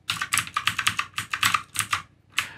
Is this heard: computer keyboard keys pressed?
yes